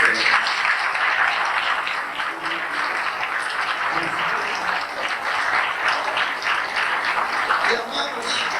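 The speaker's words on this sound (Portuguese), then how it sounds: "Vamos aplaudi-lo mais uma vez." A church congregation applauds continuously, a dense sustained wash of clapping from many hands, with voices mixed into the crowd noise throughout.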